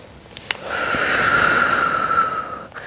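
Breathing during a muscle-strengthening workout: a short sharp sniff, then a long, close, airy exhale that swells and fades, with another quick breath at the end.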